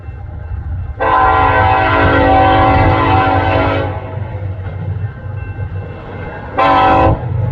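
A loaded eastbound coal freight train passes at Pacific Junction, Iowa, its horn blaring loud and sustained for about three seconds, then a short second blast over the low, continuous rumble of the cars.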